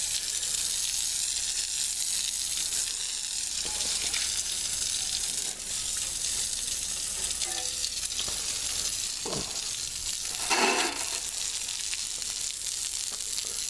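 Rusty water pouring and splashing out of the freeze plug holes of an old engine block from an abandoned 1969 Dodge Dart, a steady broadband gush throughout with a louder splashy burst near the end, no talk.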